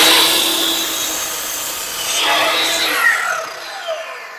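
A piece of wood trimmed to length on a construction job, heard as a close, loud rasping cut with a sustained stroke that fades out toward the end, with no talking.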